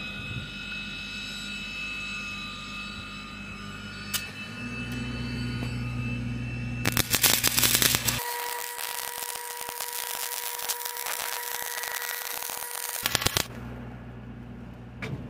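Stick welding of a pipe joint in the 6G position, running 6010/7010 rods downhill: a steady electric crackle and sizzle from the arc holds for several seconds over a low background hum, then cuts off abruptly.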